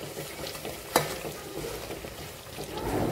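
A spoon stirs masala paste frying in hot oil for Dabuvada bhaji, giving a soft continuous sizzle with scraping strokes and one sharp clink of utensil on pan near the start.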